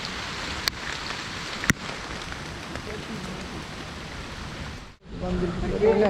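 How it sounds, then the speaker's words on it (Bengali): Heavy rain falls as a steady, dense wash of noise at Mohamaya Lake, an artificial lake in Mirsharai, Bangladesh, with a brief dropout near the end before it returns louder. "বৃষ্টির থামের কোনো অবস্থা নাই।"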